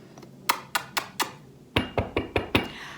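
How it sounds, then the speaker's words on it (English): Knuckles rap on a wooden surface such as a chair, table or door: four evenly spaced knocks, a short pause, then five sharper, slightly louder knocks, close and clear with no talk. "you have to knock on something that's wooden"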